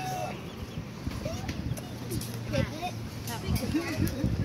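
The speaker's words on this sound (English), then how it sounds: "See, see the baby chicken." Baby chicken clucking at a petting farm with piglets and rabbits nearby, soft short clucks scattered through steady talking and background chatter.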